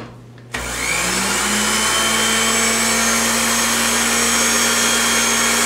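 A blender with its lid on minces chicken in oil: after a brief quiet moment the motor kicks in abruptly and holds a loud, steady whir with a rising pitch for several seconds.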